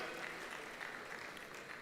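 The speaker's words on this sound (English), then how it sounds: "Please a round of applause for Mr. Sudi as he comes on up." An audience clapping at a film and TV awards ceremony as an honoree heads up to the stage, a soft, distant, steady patter of many hands throughout.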